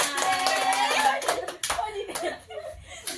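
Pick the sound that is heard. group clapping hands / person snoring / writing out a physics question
group clapping hands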